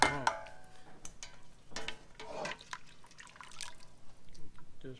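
Brine pours into a jar of pickled green beans, splashing and trickling in uneven bursts close by, with a clink of glass at the start.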